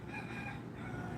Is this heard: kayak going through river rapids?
no